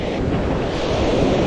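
Big ocean waves crash and wash on the shore at a shore-casting fishing tournament in Maitum, Sarangani, a loud, continuous roar mixed with wind buffeting the microphone.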